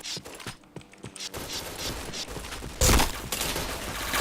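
Rapid automatic gunfire bursts from a shooter video game, loud and dense, with a sharper, heavier volley near the end.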